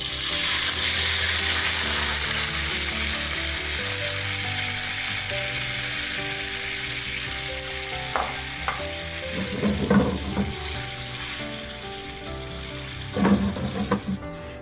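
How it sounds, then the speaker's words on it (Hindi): Sauce simmers and sizzles in a pan over sautéed garlic and ginger for crispy honey chicken, a steady close frying hiss throughout with a few brief utensil clatters near the end. "सॉस को हम 2 to 3 मिनट्स कुक करेंगे।"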